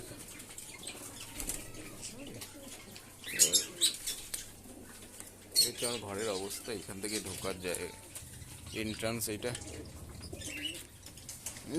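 Pigeons shuffle and flap their wings in a home loft where several birds roam loose, a few sharp wing bursts rising over steady nearby rustling while someone talks throughout.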